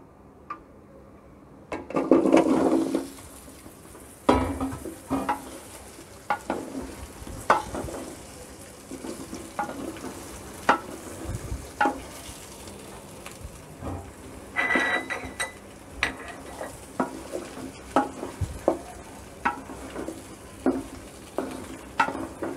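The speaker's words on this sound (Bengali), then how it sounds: "আমগুলোকে কিছুক্ষণ ভেজে নেব।" Mango pieces frying in a pan while a spatula repeatedly scrapes and stirs them, giving a continuous sizzle broken by sharp irregular clacks and a louder burst of stirring near the start.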